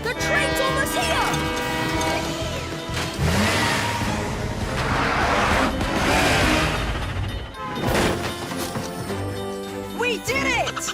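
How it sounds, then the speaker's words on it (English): A cartoon train approaches amid a busy animated scene, a loud rushing rumble with horn-like tones building and swelling over several seconds alongside music and sound effects. "The train's almost here!"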